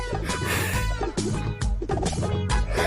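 A person loudly imitates a hen's clucking and squawking in a comedy skit, a dense, continuous run of throaty fowl-like calls from close by, with no other talk.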